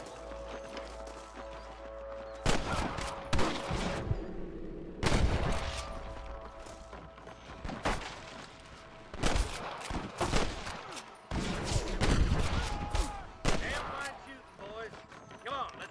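Gunfire erupts in a Western shootout in the Red Dead Redemption video game, with repeated sharp shots and bursts scattered over sixteen seconds, mixed with game sounds and voices.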